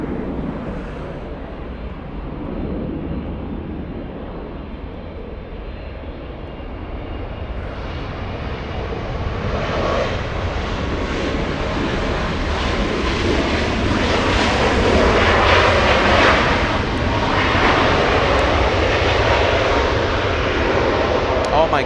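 A Southwest Airlines plane on approach into LAX after a flight from Reno, Nevada, its jet roar swelling steadily from a distant rumble to a loud, close rush as it passes, with voices faintly underneath.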